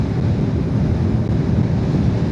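Heavy wind buffeting the microphone on a 2025 Yamaha R125 motorcycle during a ride on wet roads, a steady, loud low roar of gusting wind noise filling the whole clip with no talk.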